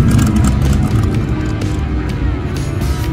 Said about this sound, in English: Traffic just continues along here on Main Street.